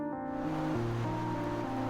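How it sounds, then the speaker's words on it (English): Storm waves crash and surge into Cox Bay, a steady, dense roar of surf that stays loud and unbroken, with a low tonal hum running underneath. "Storm watching season draws people worldwide to witness tempests that bring 40 feet waves crashing into Cox Bay."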